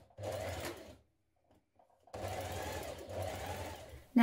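A sewing machine hems the neckline of a blouse in two bursts of steady, close stitching, separated by a brief quiet pause.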